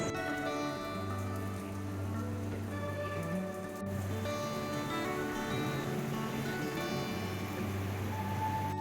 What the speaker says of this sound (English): It's now pouring with rain and I am hiding in a cave waiting for the rain to stop